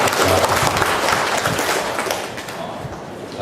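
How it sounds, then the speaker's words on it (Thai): Audience at a first-aid training session clapping, a dense, loud burst of applause that fades slightly toward the end. "ก็ปรบมือให้พวกเราเองนะ"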